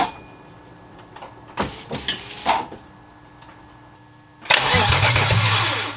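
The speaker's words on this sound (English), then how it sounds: "Hopefully this thing cranks and doesn't start." A swapped engine in a BMW E36 with the fuel pump fuse pulled is cranked over, brief clicks and short attempts giving way to a loud, sustained whirring crank that does not fire.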